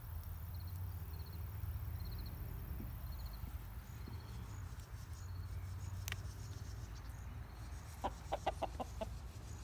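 Brahma chickens give a few soft clucks near the end, over a faint, steady background of insects chirping.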